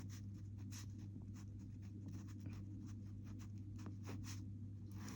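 Pen scratching out a Class 9 algebra solution on paper, soft irregular strokes and taps close by over a steady low electrical hum, with no talking.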